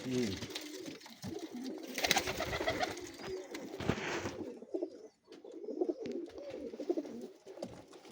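Pigeons coo steadily and close by, layered with rustling and other bird calls, over a continuous busy background.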